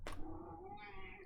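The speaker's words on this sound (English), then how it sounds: "Meow." A hungry pet cat meows in a single drawn-out, rising call lasting about a second, close and fairly loud, with a brief sharp onset and no talking over it.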